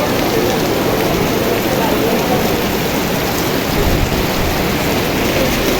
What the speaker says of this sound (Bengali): এই দেখুন বৃষ্টিটা দেখুন শুধু,